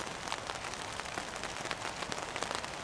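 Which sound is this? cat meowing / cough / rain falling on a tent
rain falling on a tent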